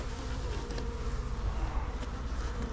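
Honeybees buzz steadily at a newly installed beehive, a dense, continuous drone of many insects close by with no talking.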